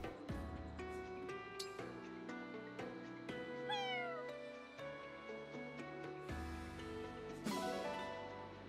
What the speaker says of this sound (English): Black cat.